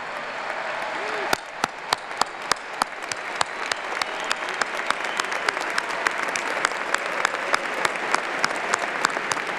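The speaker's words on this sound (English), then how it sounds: "Students, stand up. We want to applaud you." A large audience at an AIPAC gathering applauds students, a dense, loud, sustained round of clapping that builds just after a brief pause and continues strongly with distinct individual claps standing out.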